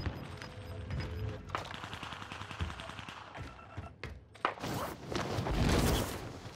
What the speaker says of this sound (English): that's the nerfed Owen gun